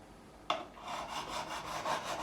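A diamond file rasps across the frets of a custom Fender Telecaster during a fret level. Steady, repeated close-up scraping strokes start abruptly and run in an even rhythm, with no talking.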